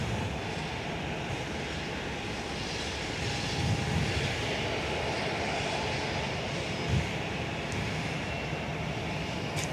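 A Velocity airliner departs Perth on its flight to Kalgoorlie, producing a broad, sustained engine roar that holds steady at moderate distance with no voices.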